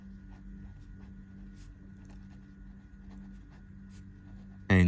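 Someone writes out the final answer to a seventh-grade maths problem on angles, making faint, irregular scratching strokes over a steady low electrical hum, with a sudden loud bump at the very end.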